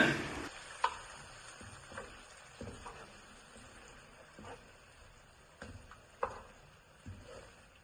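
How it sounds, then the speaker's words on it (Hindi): Three chopped tomatoes sizzle and fry in a pan with paste for maash daal, a soft steady crackle broken by occasional stirring knocks, close up, no talking. "इसकी अब मैं भुनाई कर रहा हूँ।"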